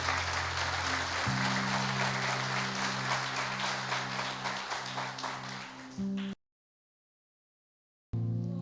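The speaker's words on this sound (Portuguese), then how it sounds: "Aplauda bem forte o nome dele." Church congregation applauding loudly, dense sustained clapping with a held organ-like tone beneath, fading out before a brief silence and a short return of sound.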